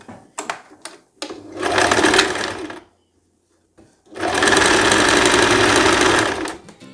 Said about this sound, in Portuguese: Depois que você fez o pesponto, que é passar essa costura